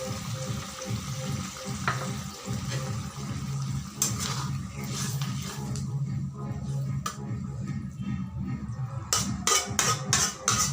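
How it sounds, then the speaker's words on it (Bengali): Eggs drop one at a time into a hot pan for an Indian egg curry, setting off steady close sizzling and frying with a short run of soft plops and spatters near the end. "এখন আমি দিয়ে দিব ডিমগুলোকে, এক এক করে উপর থেকে দিয়ে দিব"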